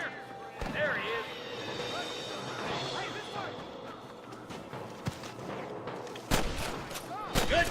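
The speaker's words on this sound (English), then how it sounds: "Good shooting, boy." Gunfire from a Western shootout in Red Dead Redemption at Pike Basin, with scattered sharp shots and sudden loud cracks near the end over background game sounds and voices.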